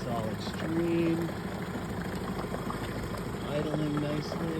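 An engine on a Lagoon 440 catamaran idles in the water with a steady, low, even rumble throughout, while people talk over it.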